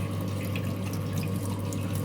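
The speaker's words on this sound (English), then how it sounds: "Now we can see there is water flowing out in here" Water flows steadily out of a pipe friction rig in a lab, a constant close rushing and trickling stream with a low hum beneath and no talk.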